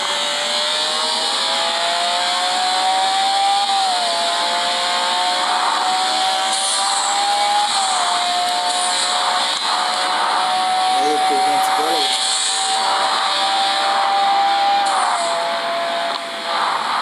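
A powerful race car engine in a racing video game holds a high, steady whine, shifting pitch in stepped jumps as it revs and changes gear, loud and continuous for the whole stretch.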